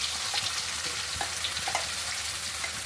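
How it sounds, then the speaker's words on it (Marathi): Raw ground spice paste with coconut, onion, garlic and ginger sizzles steadily in hot oil with curry leaves, a constant close hiss broken by faint stirring clicks. "आता हे सगळं कच्चं असल्यामुळं दहा वीस मिनटं आपण तेलामध्ये परतत राहूया"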